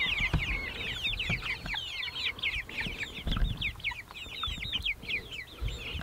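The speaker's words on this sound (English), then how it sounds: "Let's check on these meat chickens." A flock of meat chickens in a movable coop with straw clucks and chirps continuously nearby, a busy overlapping chatter with occasional thumps and rustling underneath.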